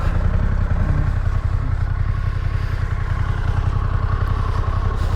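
A motorcycle engine idles close by with a loud, steady, low throbbing rumble that runs evenly throughout, with no talking over it.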